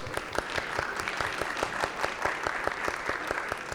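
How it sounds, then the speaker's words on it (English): Applause from an audience at a film premiere event, a steady run of individual claps with a few distinct sharp hits standing out, moderately loud and close, with no talking over it. "let's give a good applause"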